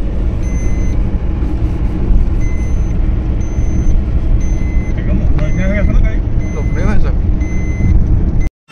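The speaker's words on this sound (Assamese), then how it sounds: "এইটো ছিট বেল্ট নলগোৱাৰ কাৰণে হৈছে শব্দটো।" A Maruti Alto 800, about 1.5 years old, sounds its seat belt warning chime as a regular series of short, high beeps over steady engine and background noise at a used car market in Assam, with a voice speaking.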